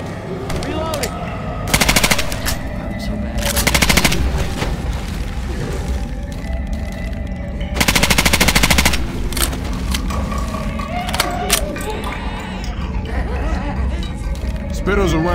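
Automatic gunfire bursts rattle in the zombie shooter game Left 4 Dead 2, several loud sustained volleys spaced over a steady din of in-game noise, with players shouting in between.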